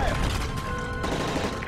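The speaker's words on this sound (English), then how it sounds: "That's gunfire!" Rapid gunfire rattles during a plane hijacking in Call of Duty Modern Warfare 3, a dense burst of shots mixed with shouted voices and cabin noise.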